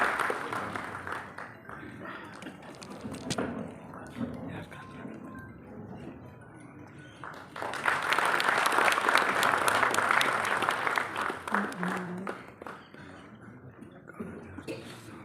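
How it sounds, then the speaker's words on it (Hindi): An auditorium audience at a book launch applauds to welcome the chief guest, sustained clapping that swells loudly in the middle and then tapers, with a voice speaking over parts of it. "जोरदार तालियों से स्वागत अभिनंदन कीजिए हमारे आज के मुख्य अतिथि का"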